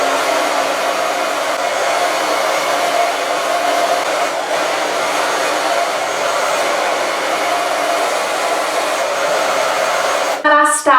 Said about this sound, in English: when I blow dry the rest of my hair, I'm going back and forth to get that volume in my hair